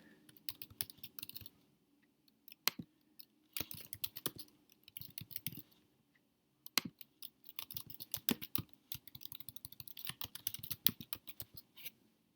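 Computer keyboard typing at a desk while text is entered into a web page layout, quick bursts of close, crisp key clicks separated by short pauses, fairly quiet, no speech.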